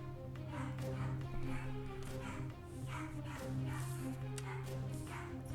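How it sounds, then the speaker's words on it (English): A dog barks repeatedly and without pause, fairly distant behind a steady low hum, the yips and bow-wows rising in short bursts. "God, you hear this dog?"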